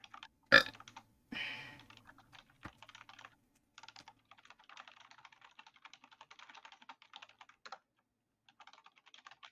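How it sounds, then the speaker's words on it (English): Computer keyboard typing in a quiet room: frequent light keystrokes in irregular bursts, with one louder thump and a brief burp-like sound near the start, then steady soft clicking for the rest. "Your typing is... it's not even actually, it's not that loud, but it's very frequent."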